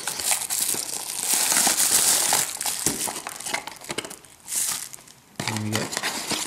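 Packaging crinkles and rustles up close while a Ulanzi V2 vlogging GoPro video case is unboxed, in bursts of crisp plastic crackle with brief pauses and a short low thud near the end.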